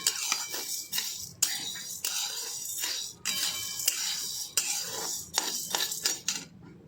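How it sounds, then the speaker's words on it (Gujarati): Chana dal being stirred constantly as it roasts in a kadhai over medium-low heat, a busy run of scraping, clinking spoon-on-metal strokes with short pauses, close and fairly loud, no talking. "તેને આ રીતે સતત હલાવતા રહેવાનું છે"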